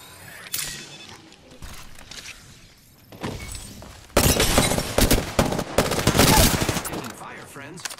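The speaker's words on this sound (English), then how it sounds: "Taking fire, friends." Rapid gunfire in the Apex Legends battle royale, in dense bursts that swell loud and crowded with overlapping shots, after quieter scattered shots and faint in-game voices.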